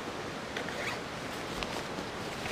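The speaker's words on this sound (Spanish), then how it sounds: "Viene con otro cierre atrás," Zipper on an Osprey Atom 65L backpack pulled along in a continuous close, quiet rasping run with slight uneven catches.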